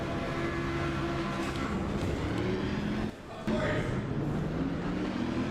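Race cars roar off the line at Suzuka in a racing video game, a dense, continuous engine drone with rising pitch tones, loud and sustained, with a brief dip midway.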